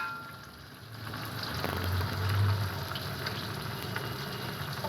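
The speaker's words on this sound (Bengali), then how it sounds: "বেগুনগুলো আমার ভাজা হচ্ছে।" Eggplant (brinjal) slices fry in hot oil in a pan, giving a steady close crackle and hiss that swells slightly midway and carries on without a break.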